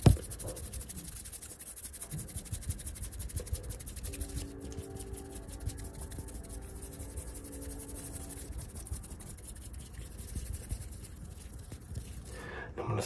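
Soft, close ASMR rubbing on a nose, a steady low scratchy friction running continuously with slight variations in texture and no talking over it.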